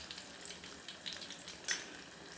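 Mushrooms fry in hot cooking oil with a soft, steady sizzle and occasional faint pops and crackles, quiet and close, with no talking.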